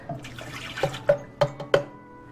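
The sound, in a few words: pouring milk into bowl with egg yolks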